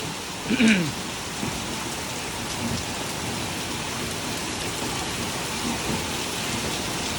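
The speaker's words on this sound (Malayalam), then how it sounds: "നമുക്ക് നല്ല മഴ" Steady, dense rain hiss fills the whole stretch, with a brief voice near the start and faint rumbles underneath.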